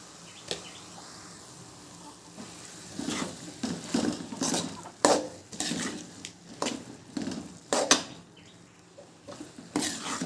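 A ladle stirs bottle gourd kootu with salt and turmeric in a cooking pot, giving a series of irregular scraping and clinking strokes. They grow louder in bursts over a quiet kitchen background, with no one talking.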